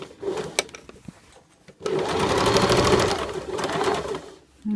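Domestic sewing machine stitching a facing seam on fabric, a short burst of back-and-forth securing stitches followed by a long steady run of motor whir, close and loud with no talking.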